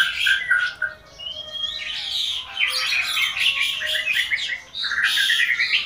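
An Asian pied starling gives loud, close squawks, chirps and whistled phrases in quick bursts with short pauses between them.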